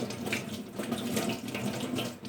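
Kitchen items are washed under a running tap, a steady close rush of water with soft splashing and no voices.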